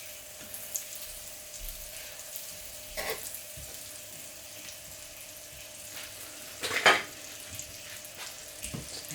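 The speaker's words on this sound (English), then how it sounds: "So the pan's really nice and hot now, so in with the butter." Butter going into a very hot pan for potato, cheese and onion paratha, a low continuous sizzle with a brief louder hiss and crackle burst partway through, no voices.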